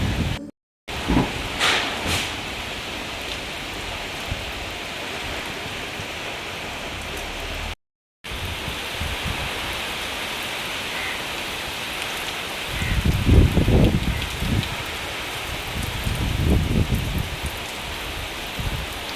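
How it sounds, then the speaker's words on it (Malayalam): Heavy midday rain driven by strong wind, a steady broadband wash of downpour with louder gusty surges late on, no voices over it. "ഉച്ച സമയത്ത് ഭയങ്കര കാറ്റും മഴയായിരുന്നു കേട്ടോ"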